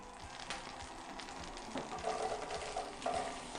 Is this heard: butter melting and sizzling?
yes